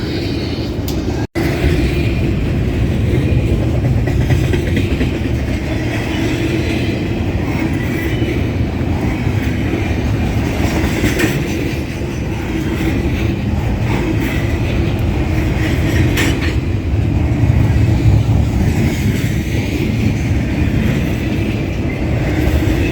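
A Union Pacific manifest freight train rolls past on a rainy day, its wagons rumbling in a loud, steady drone with faint rhythmic wheel clatter and rain hiss throughout.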